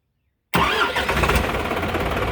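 A Kawasaki NQR150 motorcycle engine fires up abruptly after a moment of silence and settles straight into a loud, close, rough idle.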